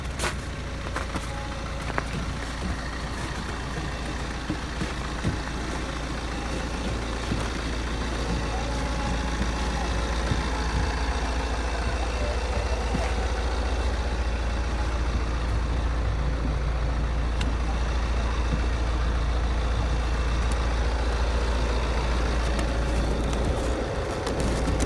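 A car engine idles steadily for warming up after being snowed in, a constant low rumble with a hum close by, running on alone with no talk.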